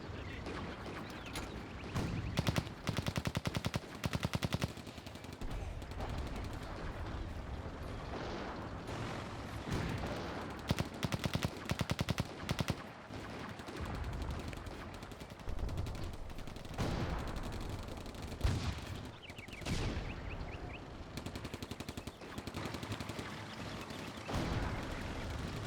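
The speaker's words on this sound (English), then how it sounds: "Started taking fire from the Soviet tanks over on the right." Soviet tanks and other guns firing in the video game Combat Mission, repeated loud cracks and bursts over a continuous rumble of battle, lasting throughout.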